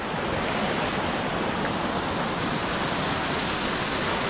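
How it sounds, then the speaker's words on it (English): Winter waterfalls and cascades tumbling in the freezing Lake District make a steady, loud broadband roar of rushing water with no let-up and no voices. "So this is another series of them cascades or waterfalls."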